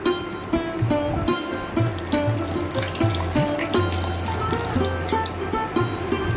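Tamarind dissolved in water is poured into a simmering Tamil fish curry with raw mango, giving a steady splashing, gurgling flow of liquid throughout, close and fairly loud.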